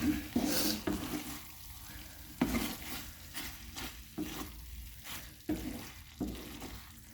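Chicken liver frying in a pan as it is stirred, a steady sizzle under repeated scraping strokes of a spoon against the pan, close and moderately loud.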